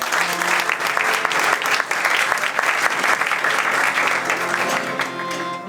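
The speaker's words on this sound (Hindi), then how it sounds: "मैं चाहूँगा ज़ोरदार तालियाँ।" Loud, enthusiastic clapping from an audience at a church music gathering, many hands clapping close and continuously, easing off slightly at the very end.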